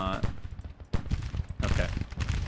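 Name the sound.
gunfire from Civil War troops in video game Grand Tactician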